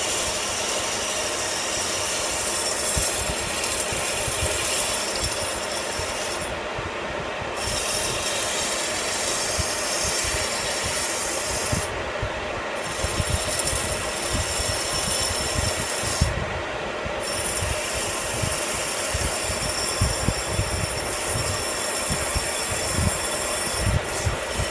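Steel is sanded by hand with 60-grit emery cloth, giving a continuous close scraping hiss with a rapid back-and-forth rubbing rhythm and no voices.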